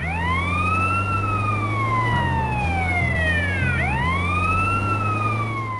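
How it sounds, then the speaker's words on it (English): An ambulance siren in Grand Theft Auto San Andreas wails loud and close, sweeping up and down repeatedly over a rumbling vehicle engine. "I got the ambulance horn on"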